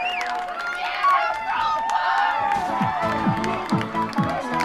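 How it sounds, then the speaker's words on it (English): Crowd cheering at a Lafayette Leopards men's soccer match against Boston University after a late go-ahead goal, a broad roar sustained under a commentator's voice. "And there, the crowd cheers."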